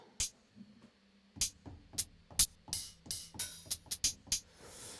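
Crisp, gritty electronic hi-hat hits run through an amp, in an irregular pattern, sharp and bright with a dirty, distorted edge, over a faint low hum.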